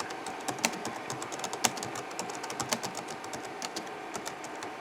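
Rapid, uneven keystrokes clatter on the slightly broken keyboard of an old Compaq-style 2595 CDT laptop, a close, steady stream of sharp clicks with occasional louder taps.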